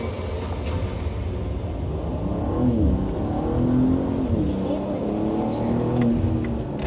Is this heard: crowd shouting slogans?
no